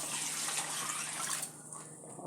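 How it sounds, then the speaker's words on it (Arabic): Tap water runs steadily into a pot of chicken being prepared for biryani, a close, continuous splashing pour that thins out toward the end. "راح اضيف عليه المي،"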